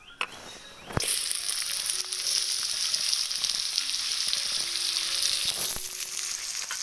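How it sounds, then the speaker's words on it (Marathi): A sudden loud sizzle as onion, garlic and curry leaves hit hot oil, then steady crackling frying continues close by with faint stirring clinks. "भाजी टाकूया फोडणीला कांदा लसूण आणि कढीपत्ता"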